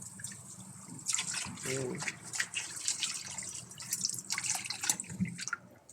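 Water poured into a pot to wash rice: uneven splashing and trickling with drips, close by, with voices talking at moments.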